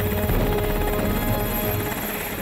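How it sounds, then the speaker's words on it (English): Sikorsky S-70B naval helicopter of the Republic of Singapore Navy gives a loud, steady roar of rotor and turbine, close by and unbroken, with no voices. "This is the Sikorsky S-70B naval helicopter from the Republic of Singapore Navy"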